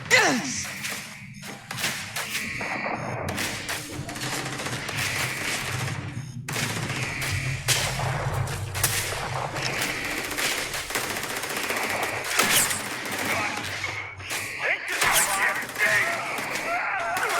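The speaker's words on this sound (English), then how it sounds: "Who's shooting at me?" Gunfire in Starfield rattles in rapid automatic bursts mixed with single heavy shots and impacts, loud and nearly constant throughout a chaotic firefight.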